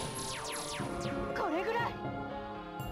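A cat meows inside a room, a few rising-and-falling calls in the middle amid game music and background tones, fairly close and moderately loud.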